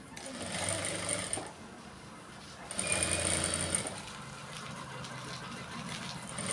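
A sewing machine stitches a double-folded hem on a two-in-one blouse, running in two steady bursts with a brief slowdown between them.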